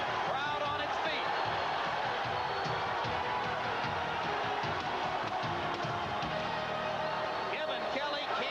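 Boxing arena crowd on its feet at a Junior Jones versus Kennedy McKinney fight, a steady dense roar of cheering and whooping that fills the space, with a commentator's voice running over it.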